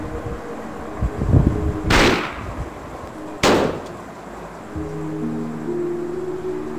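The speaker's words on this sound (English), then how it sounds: "The gunshots are completely distracting him." Two sharp, loud gunshot cracks about a second and a half apart in the survival video game 7 Days, over a low background of game ambience and a faint hum.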